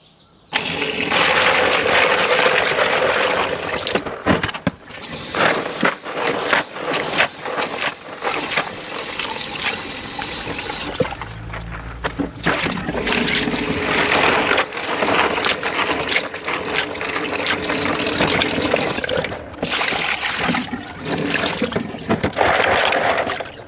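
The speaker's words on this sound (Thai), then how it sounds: "เดี๋ยวนำหอยไปล้างนะครับ" Tap water runs and splashes loudly over trimmed shellfish being rinsed in a kitchen sink before a Thai stir-fry, with sloshing handling noises, brief gaps where the flow stops, and no voices.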